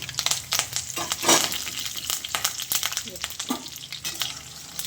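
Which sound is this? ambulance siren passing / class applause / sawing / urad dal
urad dal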